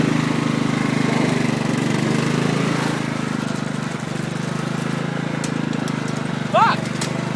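A riding lawn mower engine runs steadily and loud throughout, a continuous low drone with no talk over it and a brief sharp sound near the end.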